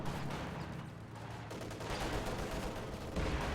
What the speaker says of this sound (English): Rifle grenade doesn't connect that well.